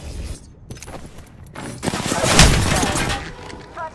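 Gunfire in the battle royale game Apex Legends: scattered shots early, then a louder dense volley of rapid fire with impacts building up mid-clip before easing off.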